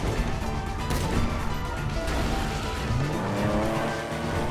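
A car in GTA 5 Online races along with a steady roaring engine, a loud crash and thumping impacts near the start, then the engine pitch climbs as it speeds up.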